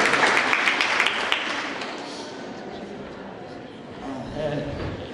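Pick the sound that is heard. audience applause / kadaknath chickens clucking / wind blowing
audience applause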